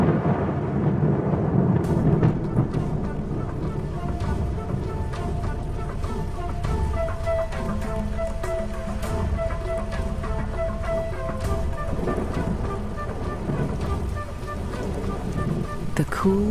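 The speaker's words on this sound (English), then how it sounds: "the promised rain arrives at last" Rain arriving over a parched plain with rolling thunder, a steady dense wash of rainfall with low rumbles underneath, layered beneath a documentary music score.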